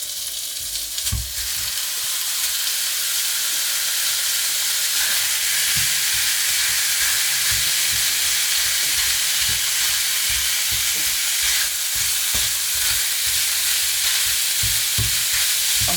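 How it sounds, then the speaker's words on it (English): Lamb mince dropped into a hot pan for keema samosa filling, a loud continuous sizzle and crackle with occasional stirring scrapes and thumps, no talking. "get the pan that you're using nice and hot, and then straight in with the meat"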